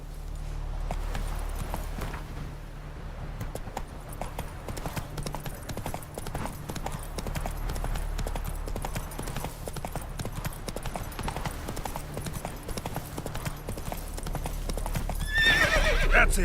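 Geralt's horse Roach gallops in The Witcher 3, a continuous rapid drumming of hooves with game ambience beneath and a neigh rising at the end.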